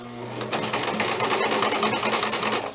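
Sewing machine stitching through two layers of a nun's wimple collar, a steady rapid mechanical chatter running continuously at close range without pause.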